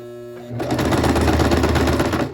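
A sewing machine back-stitching a seam on a shirt, starting after a short quiet lead-in and then running as a steady, loud, rapid mechanical whir close by, with no talk.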